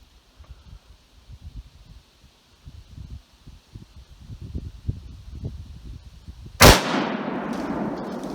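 A single loud rifle shot during a spring bear hunt, cracking sharply after several seconds of quiet outdoor rustling and then echoing away into the surroundings.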